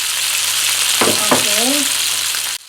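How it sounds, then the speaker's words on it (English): Seasoned salmon fillet sizzles loudly in a frying pan, a steady broadband crackle with a couple of sharp pops and a brief tonal squeal midway, then cutting off abruptly near the end. "I'm gonna put fish with the seasoned part down in the pan."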